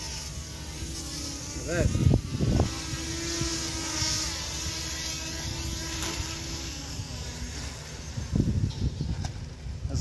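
Buzzing whine of HS720E drone motors during takeoff and landing on DIY water landing gear, a steady near hum running the whole time, with brief talk over it.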